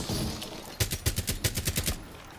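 Automatic gunfire in a video game, fired out through a window: a rapid burst of about a dozen sharp, evenly spaced shots, loud and close, after a quieter stretch.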